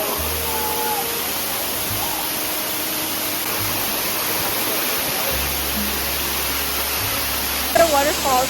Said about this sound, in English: The waterfalls now is so beautiful. I love nature. It's literally splashing everywhere